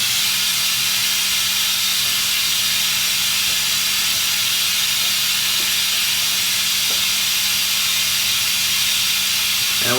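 Engine oil drains out of a BMW G 650 GS motorcycle during an oil change, making a steady, even hiss that runs unbroken with no voices.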